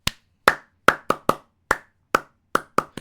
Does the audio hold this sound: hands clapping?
yes